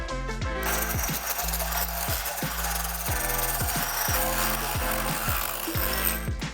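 Craftsman reciprocating saw cutting through wood, a loud continuous buzzing drone with repeated rhythmic strokes and a steady, harsh cutting rasp throughout.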